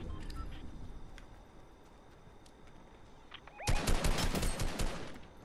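In the Fortnite video game, a quiet stretch of ambient game noise breaks into a loud, rapid burst of gunfire that lands a headshot and continues for over a second.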